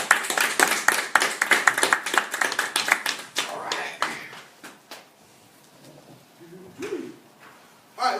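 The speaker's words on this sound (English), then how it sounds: "Give everybody a massive round of applause." Seminar audience applause: brisk, close clapping from a group that thins into scattered claps and fades, followed by a brief voice near the end.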